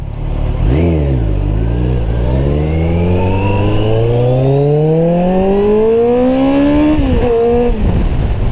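Kawasaki GTR1400 (Concours 1400) motorcycle engine revving loudly close by, climbing steadily in pitch through one long sustained rev over several seconds, then dropping back and rising briefly again, with no talking.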